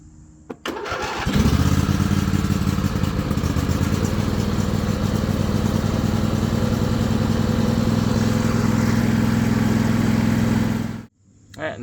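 Riding lawn mower tractor engine cranks and catches after a brief click, then runs loud and steady at mid throttle with choke for about ten seconds before cutting off abruptly, close to the machine.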